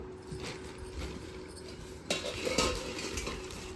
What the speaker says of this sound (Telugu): ప్రసాదం ఎక్కియడానికి గిన్నెలు